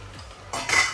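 Utensil scraping and clinking in a pan as a vegetable mixture seasoned with turmeric, ginger, paprika and pepper is stirred, a short close burst of metallic scraping.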